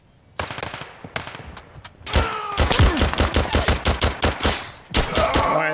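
Heavy automatic gunfire rattles in a Zero Caliber firefight, with a few opening shots followed by dense, rapid bursts of rounds that keep up loudly and closely nearly the whole time.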